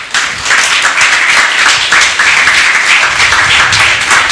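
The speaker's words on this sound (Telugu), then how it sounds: "ఒకసారి చప్పట్లు కొడుతూ దేవుని మహిమపరుస్తాం" Loud, dense clapping from a church congregation glorifying God during a sermon, a sustained wash of many hands after a brief quiet start.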